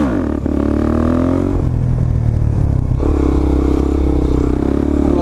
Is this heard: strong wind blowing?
no